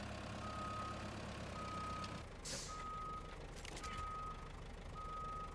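A heavy truck backing up in the video game RoadCraft, its reversing alarm beeping at a slow, even rhythm over a low engine rumble, with a couple of short hissing air-brake bursts in between.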